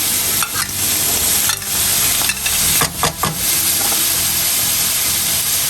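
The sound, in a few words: bell peppers and mushrooms frying in a pan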